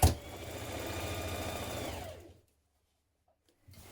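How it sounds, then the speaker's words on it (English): A sewing machine stitches the side seams of pyjama bottoms in a single close, steady whirring run of about two seconds, then stops into near silence. "pin your front leg to your back leg at the side seams and stitch in place"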